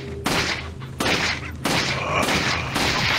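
Gunshots in the VR video game Resident Evil 4, loud sharp reports fired in quick succession, about five bursts with short gaps between them.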